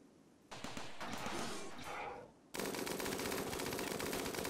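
Turrets in Rimworld open fire on a mechanoid: a muffled burst of gunfire gives way to dense, rapid, continuous shooting that stays loud to the end, with no talking.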